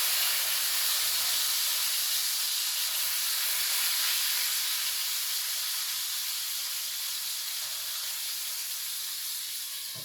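A steak sizzling in a hot pan just after being flipped, a loud, continuous broadband hiss that holds steady and fades slightly toward the end, close up with no talking.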